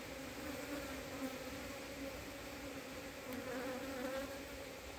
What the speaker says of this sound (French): les abeilles sont pas du tout contentes